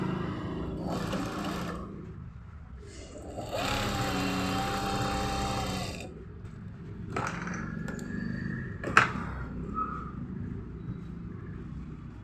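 Sewing machine stitching a kurti, running in several bursts of steady whirring with short pauses between, close and fairly loud, ending with a few clicks.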